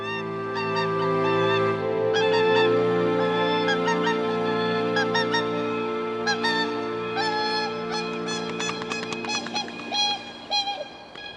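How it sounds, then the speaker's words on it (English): Whooper swans calling on a frozen northern breeding ground, a chorus of loud, bugling honks with overlapping trumpet-like notes, densest toward the end, no voices. "Hooper swans have arrived."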